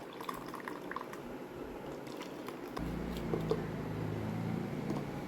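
Jelly liquid is poured into a glass as a steady, soft liquid stream. It starts quietly and grows fuller and louder partway through, with a few small drips and no talking.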